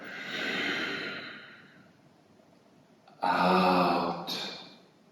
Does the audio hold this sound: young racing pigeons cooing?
no